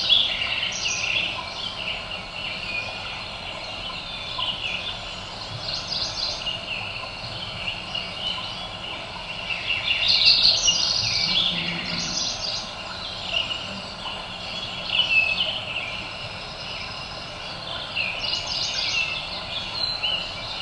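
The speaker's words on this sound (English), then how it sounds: "Represented here are McGillivray's warbler, Lincoln, chipping and white-crowned sparrows, American robins, golden-crowned kinglet, sapsucker, and a mountain quail." Mountain meadow dawn chorus of McGillivray's warbler, Lincoln, chipping and white-crowned sparrows, American robins, golden-crowned kinglet, sapsucker and mountain quail, many overlapping chirps and trills over a steady insect-like hiss, some calls swelling nearer.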